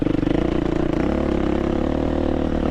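A KTM 350 motorcycle engine runs loud and close, with a steady throbbing low-end pulse that stays even throughout.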